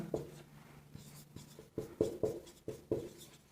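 Marker scratching on a whiteboard during a paramedical lecture, a few short strokes and squeaks at close range with light background hiss and no talk.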